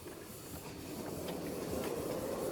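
A steady rumbling hiss of a steam locomotive getting underway, with a broad continuous roar that builds slightly louder over a couple of seconds.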